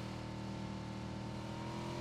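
A buggy's engine hums steadily in PUBG on Xbox One, a continuous mid-pitched motor drone that holds level and unbroken without any speech over it.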